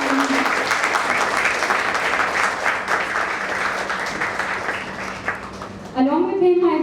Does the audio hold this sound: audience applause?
yes